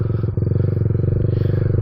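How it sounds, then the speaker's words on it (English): A Kawasaki Z125 motorcycle engine revs steadily and loud up close during a wheelie attempt, with a dense, throbbing low drone and a brief dip partway before the pitch holds and climbs. "you'll hear as the engine RPMs start climbing and climbing and climbing"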